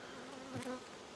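Honeybees at a queenless hive in an apiary, a close continuous buzz with one bee droning briefly louder past the ear, no talk.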